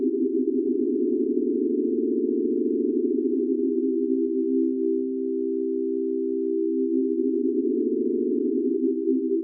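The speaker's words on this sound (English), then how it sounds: "I'm going to increase the detune and play the chord again" Xfer Serum synth chord with the oscillator detune raised, a single sustained tone with a slow shimmering, beating wobble, held steady and moderately loud for the whole stretch, alone with no talking.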